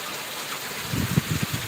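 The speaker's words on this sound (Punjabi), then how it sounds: "ਪੂਰਾ ਤੇਜ਼ ਬਾਰਿਸ਼ ਹੋ ਰਹੀ ਹੈ" Steady broadband hiss of heavy rain in a village in Barnala district, Punjab, with a few low splashing thuds growing louder in the second half; no voices.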